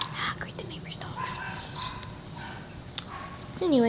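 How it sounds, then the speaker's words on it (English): Dogs, likely huskies, bark a few times in the distance, faint and sporadic, with another dog joining in, over background noise and a brief whining sound near the end. "Ah, great, the neighbor's dogs."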